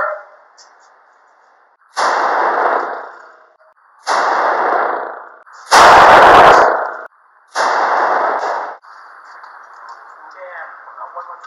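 Four heavy .50 caliber gunshots boom on an outdoor firing range, spaced about two seconds apart, each loud blast followed by a short echoing tail, with faint talk in the background.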